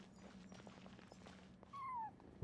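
Cat meowing in Genshin Impact: a single drawn-out, falling meow rising above a steady background of game music and ambience.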